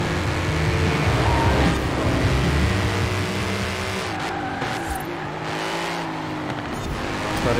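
Ford Mustang RTR Spec 5 race car in Forza Horizon 4 roars continuously at full throttle through a lap, engine note rising and dropping with shifts and cornering, tire squeal mixed in, loud and close throughout.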